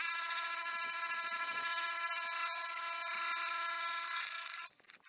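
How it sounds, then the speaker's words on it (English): Wire brush spun by a drill roughing up a stretched, drying deer hide, a steady high-pitched whirring rasp close by that holds for about four seconds and then winds down and stops. "Now what I'm going to do is use a wire brush on a drill."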